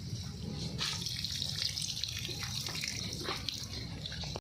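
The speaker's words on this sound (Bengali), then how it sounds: "এই যে আলুটি ভালো করে ধুয়ে নিতে হবে।" Potatoes are washed under a steady stream of tap water splashing into a kitchen sink, a continuous close rush of water with small knocks and shifts throughout.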